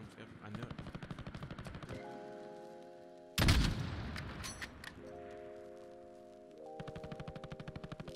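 Call of Duty: Warzone gunfire: fast bursts of automatic rifle fire repeat in rapid rhythm, broken by one heavy, loud blast partway through, with steady tonal game sounds underneath.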